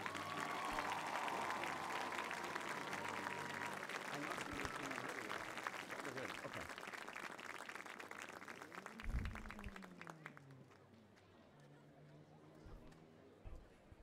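Crowd applause at a high school homecoming football game for the 2017 homecoming king and queen, steady distant clapping and crowd noise over a public-address voice, gradually thinning toward the end.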